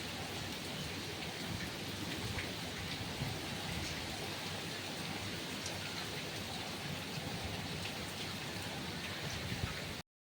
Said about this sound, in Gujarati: વરસાદ શરૂ છે